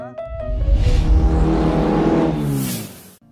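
An old Soviet Izh pickup truck engine cranks with a few quick clicks, then catches and revs loudly, the pitch rising and holding before cutting off abruptly, close by.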